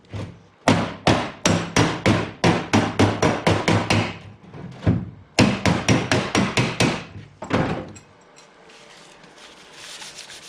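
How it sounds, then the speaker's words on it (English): Rapid, steady hammer taps ring on a metal panel held against a dolly, flattening a Datsun 510 rear arch, in quick bursts, pausing briefly between runs, then stopping, leaving a faint hum. "I'll take the hammer and sort of tap this piece to try to flatten it out smooth"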